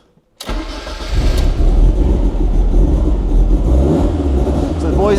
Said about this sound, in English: let's see if it starts, and give it a rev